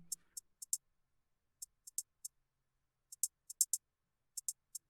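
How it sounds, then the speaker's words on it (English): Light electronic hi-hat programmed in Bitwig Studio, ticking in short crisp bursts with uneven gaps, very quiet and dry with no other sounds. "this hi-hat sounds like this"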